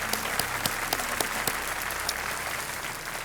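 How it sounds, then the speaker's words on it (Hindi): A studio audience on a TV quiz show claps steadily, a dense close wash of applause with a few sharper individual claps standing out early on, no talk over it. "एक बार फिर तालियों के साथ नलिनी सिंह जी"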